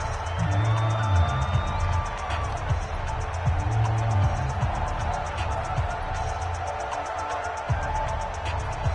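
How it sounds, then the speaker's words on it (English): Stadium crowd noise from a football video game on PS4, set in a domed stadium: a steady, loud roar of many voices with scattered whoops and swells, continuous throughout without a break. "The crowd here in the Dome making things difficult"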